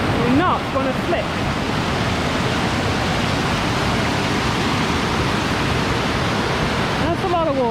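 Loud, steady rush of a flowing stream on the Pacific Crest Trail fills the whole clip, a dense broadband roar, with brief voices at the start and end.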